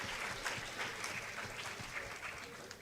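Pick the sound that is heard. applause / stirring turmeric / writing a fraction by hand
applause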